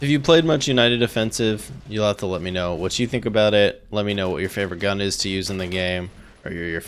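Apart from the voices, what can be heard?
No distinct noise like a dog, phone or traffic.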